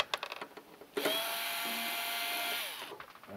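A small power driver whirs steadily for about two seconds while removing the retaining screws from the back panel of a Moog synthesizer, preceded and followed by light clicks and handling taps, close and alone.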